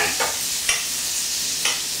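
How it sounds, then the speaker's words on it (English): Butter melts and sizzles in a small frying pan, a steady close hiss with a few soft scraping stirs. "we're going to melt our butter in the pan"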